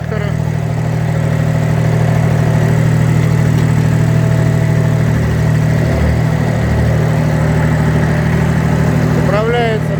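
A HINOMOTO C174 mini tractor engine runs steadily while driving, a loud, close, continuous low diesel drone throughout, with someone talking over it.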